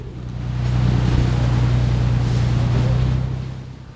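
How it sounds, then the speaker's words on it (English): Ferry crossing to Bimini in the Bahamas, its twin turbojet engines giving a steady low drone under rushing water and wind noise that swells and fades over a few seconds. "I'm really impressed with the power of these engines. Twin turbojets, I guess they are, really pushes this thing along."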